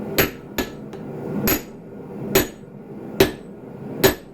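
Six loud, ringing hammer blows strike hot Damascus steel by hand during forge welding, spaced unevenly with short pauses between strikes and no talking.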